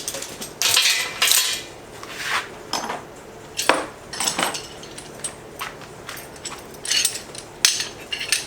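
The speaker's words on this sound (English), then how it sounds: "Two of the smaller vice grip style clamps." Small vice grip style metal clamps are picked up and handled at a fixture table, making close, irregular clanks, clinks and rattles in bursts with short pauses between them.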